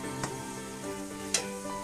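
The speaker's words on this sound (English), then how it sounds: "And now it started to sizzle." Quiet sizzling of pork adobo cooked with cola, rendering fat in a pan, with a couple of sharp stirring scrapes over a soft steady hiss.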